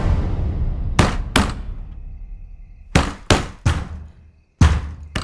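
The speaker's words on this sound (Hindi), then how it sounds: "विद्या दरवाजा खोल" Sharp, loud knocks on a door in a tense dramatic scene, arriving in uneven clusters: two quick raps, a pause, then three more and a final single bang.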